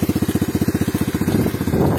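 An Apollo 125 RFZ motorcycle engine pulses in a steady low putter close by, then the beat quickens and roughens into a denser rumble as the rider shifts gears at low speed.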